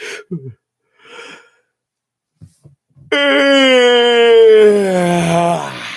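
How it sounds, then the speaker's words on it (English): A person yawns: a few short breathy inhales and faint mouth noises, then a loud, sustained, drawn-out vocal yawn that slowly falls in pitch over about three seconds. "Did you yawn just then?"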